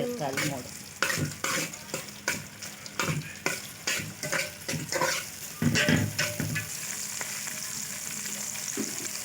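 Chillies and tomato frying in a pan give a loud continuous sizzle, broken by bursts of stirring and spoon scrapes that come in an uneven rhythm, close up with no speech.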